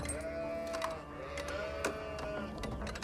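Sheep bleat in a few wavering calls in Age of Empires IV over a dense, steady mechanical hum and scattered clicks, sounding synthetic and layered.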